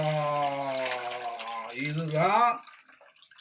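Mutton curry mixture poured into a hot clay pot on a traditional wood-fired stove, a sizzling, bubbling rush lasting a few seconds, heard close beneath someone speaking Tamil before it fades to a soft hiss.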